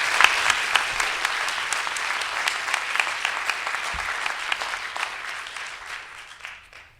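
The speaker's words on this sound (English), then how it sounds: "Can we give them a nice round of applause?" Audience clapping for a student panel at an event, a dense burst of applause from a crowd that holds steady and then tapers off toward the end.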